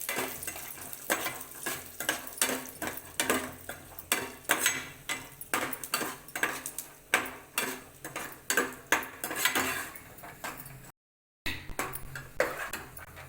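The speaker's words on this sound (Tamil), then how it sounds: "இது ரெண்டும் சேர்த்து வறுப்போம்" Repeated scraping and clinking of a spatula stirring cashews and nuts roasting in a metal pan, a steady rhythmic clatter at close range, no talking.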